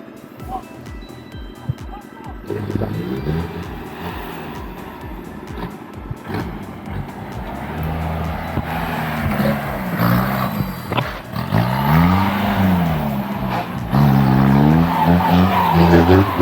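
Off-road car at a KL 10 track day course in Wandoor, its engine roaring and tyres skidding loudly, rising revs with pitch sweeps building over the run, with voices faintly underneath early on.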